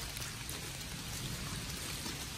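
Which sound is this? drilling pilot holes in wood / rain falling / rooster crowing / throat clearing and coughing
rain falling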